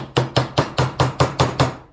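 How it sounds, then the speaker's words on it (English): A ball peen hammer taps a U-joint bearing cap on the rear driveshaft of a 2005 Dodge Ram 3500 dually Cummins. Seven sharp metallic strikes land in a steady, evenly spaced rhythm, loud and close, with no talking. "if you take your ball peen hammer, you can just tap this cap down and get the pressure off the spring"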